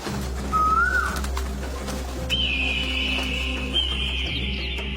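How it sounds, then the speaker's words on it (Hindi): A bird gives a rising whistled note in the morning, then a long, steady high whistle that holds for several seconds over a constant low hum. "दूसरे दिन सुबह में कोयल आकर कूकने लगती है।"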